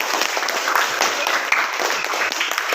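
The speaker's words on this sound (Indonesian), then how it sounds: "Tepuk tangan untuk kita semua" Children in a classroom clap together in a steady, dense patter of applause at moderate volume for a few seconds, with no one speaking.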